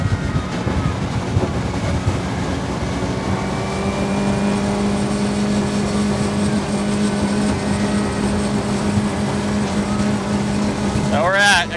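A skiff's outboard motor runs at full throttle against the current at around 32 miles an hour, a loud, steady, close drone with a strong low hum and wind rush that holds without a break.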